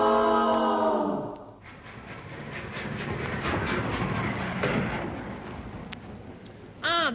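Train arriving at a station in a UK comedy show, opening with a sustained steam whistle, then a rumbling, clattering roll of wheels and carriages, ending with a brief high whistle-like squeal.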